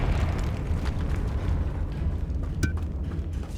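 Confringo spell explosion in the game Hogwarts Legacy, a deep rumbling blast that rolls on for several seconds with a brief crackle near the end.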